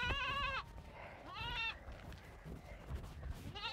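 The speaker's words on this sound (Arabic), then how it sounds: "انا هاخد دي المعزة دي المعزة دي" Goats bleat twice on a farm, each a loud wavering cry about half a second long, the second a beat later, with faint background noise between and no speech.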